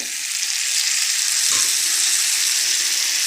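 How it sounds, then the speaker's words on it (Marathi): Water from a mixer jar goes into thick masala gravy for a stuffed egg curry in a small kadhai. A loud, steady sizzle hisses throughout, with a brief splash and a surge of bubbling midway. No voices. "आणि हे मिक्सरच्या भांड्यातलं पाणी देऊया टाकून"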